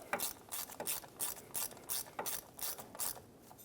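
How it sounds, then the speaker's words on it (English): A ratchet snugs an ABS sensor bolt on a rear hub assembly of a 2014-2021 Mazda 6. Close, crisp clicking comes in about nine quick rhythmic bursts, with no voices. "Install the bolt, thread it on, and snug it up."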